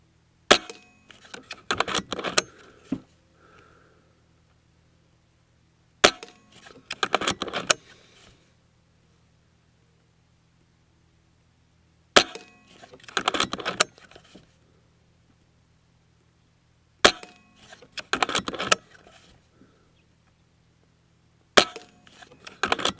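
Five separate bursts ring out from an Umarex Walther Reign .25 PCP air rifle fired on a bench at 25 yards. Each is a sharp crack followed by clattering mechanical clicks, with quiet gaps between them.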